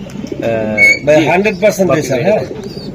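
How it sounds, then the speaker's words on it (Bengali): Racing pigeons cooing close by, several rolling, throaty coos in quick succession with a higher whistle-like note early on, fairly loud and near. "অসাধারণ কবুতর, প্রত্যেকটা কবুতরের ভাই চেহারা"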